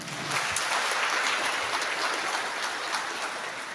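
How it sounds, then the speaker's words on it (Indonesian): A dense, even wash of clapping from an audience at a Maulid Nabi gathering, steady and fairly distant throughout, with no talking over it. "Tepuk tangannya mana?"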